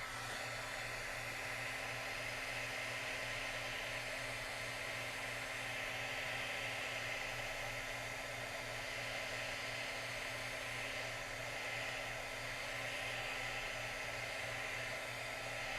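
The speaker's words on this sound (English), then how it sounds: "I gotta get a longer cable for my embossing gun." Embossing heat gun for crafting running steadily in a craft room, a constant close whooshing blower roar with a low motor hum, unbroken throughout and with no voices.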